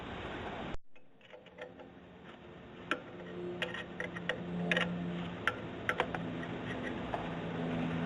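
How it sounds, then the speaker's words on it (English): A 12 mm wrench works a nut loose on a 1994 Honda Accord LX during a belt replacement, giving a run of sharp, separate metallic ticks and clicks at irregular intervals, close by over a steady background hum. "we have to loosen this nut with the wrench, the 12 millimeter wrench"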